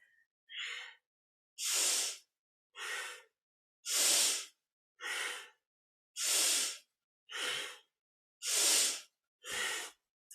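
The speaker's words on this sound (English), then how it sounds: "you can slow it down as long as you're synchronizing a nice full movement with a nice full breath" Rhythmic breathing during a kundalini yoga spinal flex: nine strong, full breaths, each about a second long, evenly paced with brief pauses between them, close and loud with no talking.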